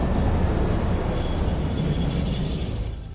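A train in the video game Satisfactory falls, heard as a loud, heavy low rumble with metallic rattling that holds steady, then eases slightly toward the end, with no talk over it.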